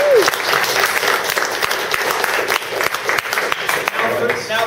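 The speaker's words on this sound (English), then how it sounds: "I just want to give a great big round of applause" Audience round of applause at a community gathering before a raffle, steady dense clapping filling the room for several seconds, with some voices and cheers mixed in.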